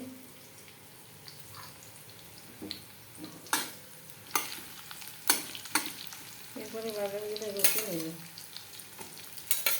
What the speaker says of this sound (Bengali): পেঁয়াজটা ভাজুক দে